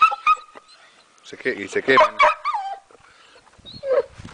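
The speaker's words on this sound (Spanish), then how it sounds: "perros que molestan, perros con hambre," Hungry dogs at an outdoor Argentine asado whimper and yip in short high-pitched bursts, close by and interleaved with a person talking.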